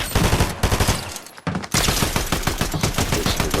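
Rapid Fortnite gunfire rattles out in dense bursts, a brief lull near the middle before steady automatic shooting resumes, loud and close throughout with no talking.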